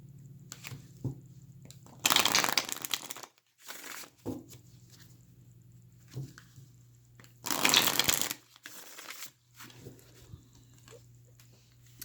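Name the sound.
shuffling Osho Zen tarot cards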